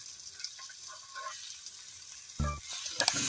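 Snakehead fish frying in a pan holds a steady close sizzle, then a brief louder burst and clatter as the fish is flipped over, followed by hissing.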